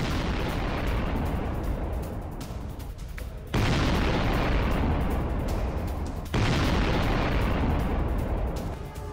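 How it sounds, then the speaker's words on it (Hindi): A 2D30 howitzer fires during the war in eastern Ukraine, heavy booming blasts with abrupt onsets over a dense, loud roar of rumbling noise, two sharp fresh impacts standing out. "2D30 होवित्ज़र तोप से अटैक किया गया है।"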